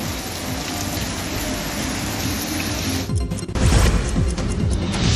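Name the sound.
rain falling in a city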